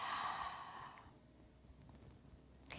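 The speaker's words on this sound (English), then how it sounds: "Breathing in, breathe out." A soft, breathy exhale during a slow yoga spine movement, strongest at the start and trailing off into quiet room tone, with a faint click near the end.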